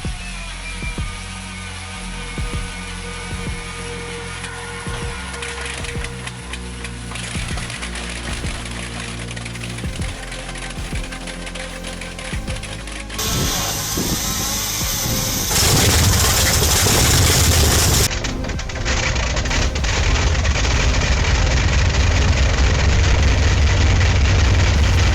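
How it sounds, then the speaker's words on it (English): A hand-cranked vintage engine, the Bristol Hercules radial, runs with a dense, rough mechanical roar that grows louder and fuller toward the end, with no talk over it. "The moment the smoke thins and the engine runs clean."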